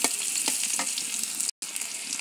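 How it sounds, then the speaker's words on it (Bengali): Chopped onion frying in hot oil for a cauliflower and pabda fish curry, a dense, even sizzle up close with faint stirring scrapes and a momentary dropout partway through. "পেঁয়াজটা আমি ব্রাউন কালার করে ভেজে নেব।"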